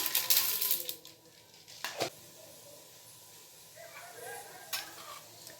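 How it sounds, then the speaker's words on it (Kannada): Chana dal and urad dal frying in oil for vangibath: a faint, steady sizzle with a few sharp spoon scrapes and clicks against the pan, heard close but quiet. "ಎಣ್ಣೆನಲ್ಲಿ ತಿರ್ಗಾ ಕಡಲೆಬೇಳೆ ಬೇಳೆ ಫ್ರೈ ಆಗ್ತಿರುತ್ತೆ"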